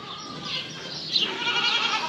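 Goats on a farm bleat nearby, one drawn-out cry followed by a higher, wavering bleat, loud and clear with no talk.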